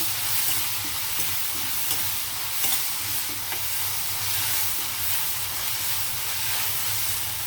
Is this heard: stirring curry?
yes